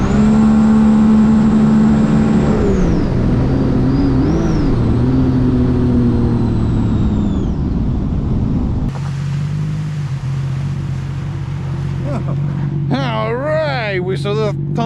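The Rotax engine of a 2017 Sea-Doo RXT-X jet ski runs steadily at close range with a tonal hum that shifts pitch as the throttle changes. Someone speaks over it.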